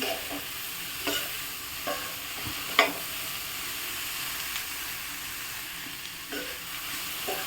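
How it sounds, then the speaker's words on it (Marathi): A capsicum (shimla mirchi) vegetable curry is stirred in a pan, with repeated spatula scrapes every second or so over a soft, steady sizzle, close up and with no talking. "झटपट होणारी भाजी आहे ही सो मी छान मिक्स करून घेते"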